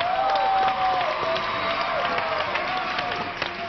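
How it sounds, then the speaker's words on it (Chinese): A television talk-show studio audience claps to welcome actress Li Danyang onto the stage, a moderate wash of applause blended with bright, sustained music tones. "掌声有请李丹阳"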